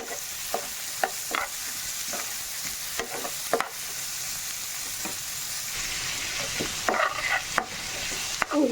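Chopped onions frying in a pan for spicy Andhra egg pulusu, a steady close sizzle punctuated by regular spoon scrapes and clinks as they are stirred.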